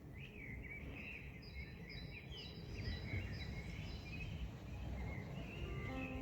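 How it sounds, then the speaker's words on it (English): Early-morning birdsong outside a hotel, several birds chirping and trilling fairly close over a steady low background hum and murmur, continuous throughout with no talking. "So this early morning you can hear the birds singing."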